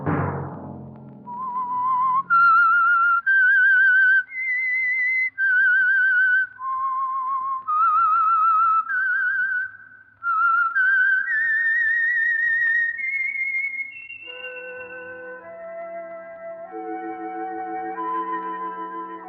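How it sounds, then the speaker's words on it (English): A lone melodic whistle plays the theme of The Whistler radio program, a clear, close series of sustained notes and slides after a brief opening thud. It gives way to a softer, lower musical tone at the end. "Let that whistle be your signal for the Signal Oil program, The Whistler, each Sunday night at this same time."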